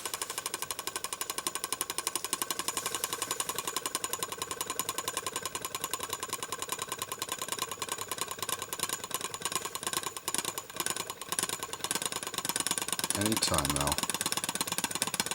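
Beyblade Burst top spinning in a plastic stadium, a continuous gritty, buzzing rattle of the top grinding against the floor, with a voice speaking briefly over it before it wobbles toward a stop.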